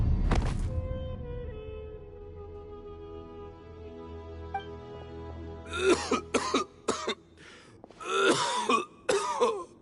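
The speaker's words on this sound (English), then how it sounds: "Why is he coughing so much?" A man coughs and clears his throat in several harsh, raspy bursts, close and loud, clustered in two rough fits after a quieter stretch.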